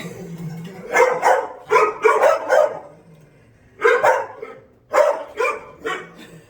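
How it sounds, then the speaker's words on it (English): Dogs bark nearby in two bursts of several sharp, loud woofs, separated by a short quiet pause. "A dog."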